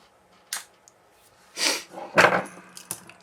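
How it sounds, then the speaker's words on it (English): Small fine square-headed screws being backed out of a Polaroid SX-70 Alpha camera body with a square-headed screwdriver: a few faint, sparse clicks and light metallic scrapes with quiet gaps between them, close up and without talk. "using the square-headed screwdriver, I will take out the two fine square-headed screws"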